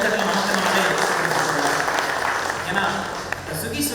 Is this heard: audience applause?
yes